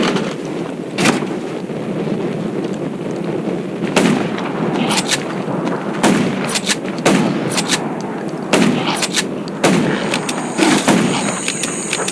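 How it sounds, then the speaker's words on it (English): Repeated gunshots in the zombie game Undawn, sharp cracks spaced a second or two apart over a steady rumbling background, fairly loud, no talking. "Gunshots will attract more."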